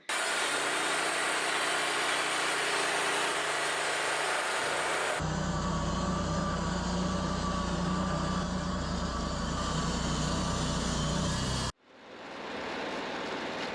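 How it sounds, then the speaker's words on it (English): A Wood-Mizer LT40 sawmill engine idling roughly runs with a loud, rough drone, shifts to a different uneven idle partway through, then cuts out briefly before resuming. "The mill's not running great. It's not idling right."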